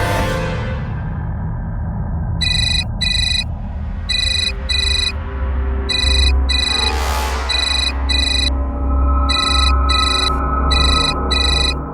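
A phone rings for an incoming call, a loud electronic ringtone beeping in short paired bursts repeated steadily over a low background drone.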